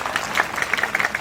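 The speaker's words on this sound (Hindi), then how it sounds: "हमारी प्रधान जी के लिए जोरदार तालियां बजाइए आप लोग।" A brief burst of crowd clapping at a Hindi-speaking community ceremony honouring a village head. The audience claps rapidly and unevenly for just over a second.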